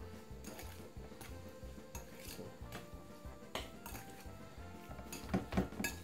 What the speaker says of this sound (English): Give it a little stir like this.